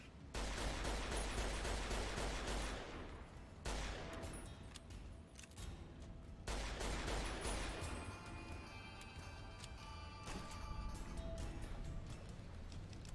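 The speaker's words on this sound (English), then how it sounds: "Why is everyone blowing up? Oh, yeah, someone must have a grenade launcher, I think." Heavy explosions from a grenade launcher in the video game Fallout, loud booming blasts in bursts separated by brief lulls, with crackling debris and gunfire mixed in.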